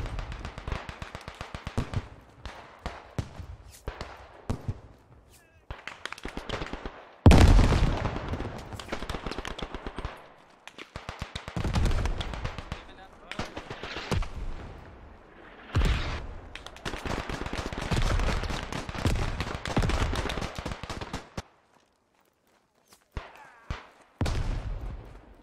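Bursts of rapid gunfire and heavy booms from the video game Beyond the Wire, loud and chaotic, with short pauses between volleys.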